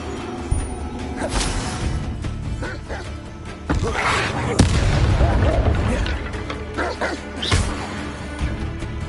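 Bombarda explosion spell cast in the Hogwarts video game, a series of loud booming blasts over constant busy game audio, with a spoken incantation in the mix.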